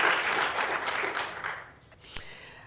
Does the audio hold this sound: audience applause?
yes